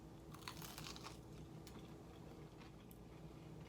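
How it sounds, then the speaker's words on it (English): Crunchy Doritos chip bitten and chewed close up, a few sharp crackling crunches over steady low background hum, with no talking. "It's got a good crunch to it."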